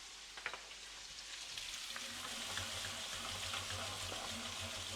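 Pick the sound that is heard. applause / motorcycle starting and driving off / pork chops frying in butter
pork chops frying in butter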